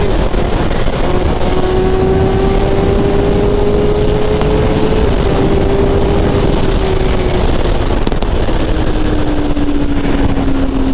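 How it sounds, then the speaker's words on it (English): Loud engine of a fully modified superbike heard while riding, a continuous roar with rising and falling pitch as the revs change, accompanied by wind rush. "This is a lot of motorcycle, ladies and gentlemen."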